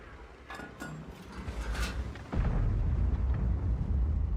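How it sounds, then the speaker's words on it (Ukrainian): In World of Tanks, a tank destroyer fires a high-explosive shell: a heavy cannon-like blast booms out partway through, followed by a sustained low rumble; faint clanks and thuds precede it. "Тільки фугас летить."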